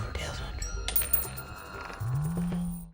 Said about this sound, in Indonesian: menggunakan lemparan koin.